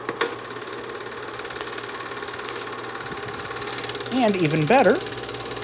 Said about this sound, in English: I can go ahead and click it back into high gear.